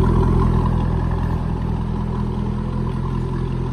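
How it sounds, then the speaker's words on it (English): Red 2004 Chevrolet Corvette with a 5.7 V8 and Corsa exhaust, running steadily with a loud, close, continuous rumble throughout and no talking. "There's that Corsa exhaust. Have a listen to that."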